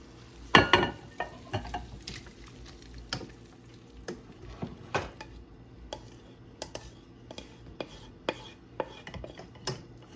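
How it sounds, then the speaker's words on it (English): Cooked shrimp being scooped from a pot into a bowl while cooking a one-pot shrimp and spinach pasta, with scattered utensil clinks and scrapes, a louder clatter early on, and faint background sizzle, no talking. "I'm going to transfer the shrimp into this bowl just so I can do my sauce now."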